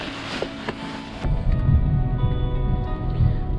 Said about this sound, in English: The rain is finally starting to ease off a little bit.